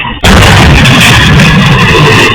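The tyre of a moving mini truck on a road bursts with a sudden loud bang, followed by a sustained roaring, rushing blast of noise.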